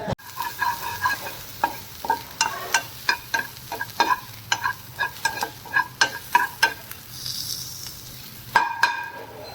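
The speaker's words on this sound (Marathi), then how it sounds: "उसमें अपन डालेंगे अपना कांदा। सो डालो कांदा और फिर उसको थोड़ा सौते करो।" Onion sautéed in a little oil in a pan, a soft sizzle under a run of sharp, rhythmic spatula scrapes and clinks against the pan, close and steady throughout.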